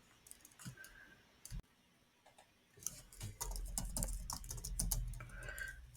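Computer keyboard keys clatter in quick irregular bursts as code is typed, close and fairly soft, with a brief pause before a denser run of tapping.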